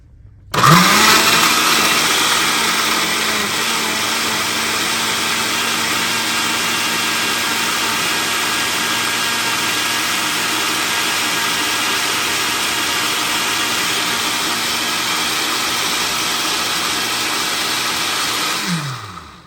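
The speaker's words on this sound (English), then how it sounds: "So then we're going to turn the blender on and on high." A blender roars at high speed blending black beans, steady and loud for nearly twenty seconds, winding down abruptly at the end.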